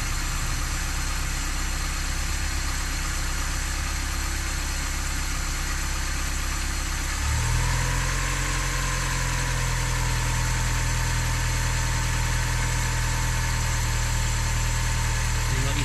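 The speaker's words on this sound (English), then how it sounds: "so this is your base idle" A Mazda MX-5 engine held at base idle, a steady low drone that shifts to a deeper, stronger hum partway through and then holds evenly.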